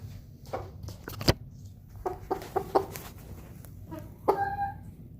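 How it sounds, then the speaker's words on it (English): A Silkie rooster clucks softly in short bursts while held in someone's arms, with a few sharper calls and a quiet low rumble of handling noise close by. "we got our little silky rooster here, right in my arms"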